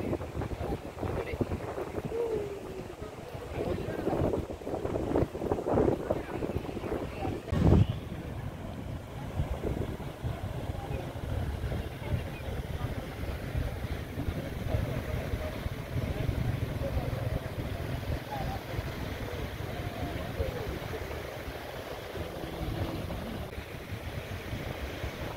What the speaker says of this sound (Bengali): সাগরের গর্জন এবং চারিদিকে প্রচুর পরিমাণ বাতাস আমাদেরকে মুগ্ধ করে দিচ্ছে।